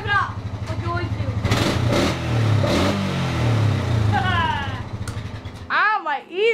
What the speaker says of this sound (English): Okay, rev it up.